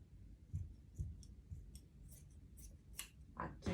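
Scissors snipping through fabric while cutting strips for a long dress, several quiet separate cuts close by, ending in a quicker run of snips.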